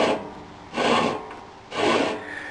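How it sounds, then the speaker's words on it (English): Belt and pulleys on a John Deere 110 lawn tractor grind in a rough, raspy rubbing sound that swells twice in slow repeating surges over a constant scraping background, close and loud. "it's just making a little bit of a grinding noise. It's just the belt and the pulleys"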